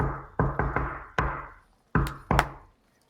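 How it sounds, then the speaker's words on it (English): Knuckles and fists knocking on a stone cobblestone inset: a few crisp raps in an irregular rhythm, a cluster of three, then a single knock, then a pair after a pause, fairly close with short decays. "She walks up to one of the stone cobblestone insets, and she knocks."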